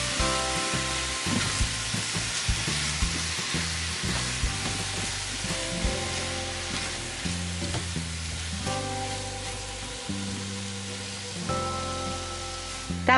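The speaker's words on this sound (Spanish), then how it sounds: "lo vamos a dejar que se vaya cociendo a fuego moderado para que suelte todos sus jugos" Zucchini stew cooking in a covered pan over moderate heat, a continuous soft sizzle and bubbling crackle with faint clinks, steady and close, with no talking.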